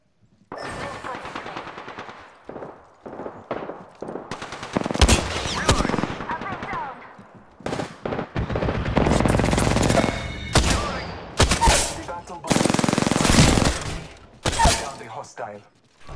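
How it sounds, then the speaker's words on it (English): Automatic weapon fire from the Apex Legends battle royale game rattles in repeated loud bursts over about sixteen seconds, with short pauses between volleys, while a player talks over the shooting. "Listen up, I'm getting shot at. Firing."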